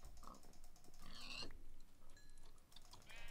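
A pig oinks in a video game, a short grunting call near the start, followed by clicky game-interface and mechanical noises over low ambient background.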